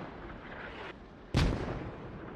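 Mortar fire in a military video game: a low rumbling background gives way to one sudden, heavy boom that rolls and decays over the following second, fairly close and loud.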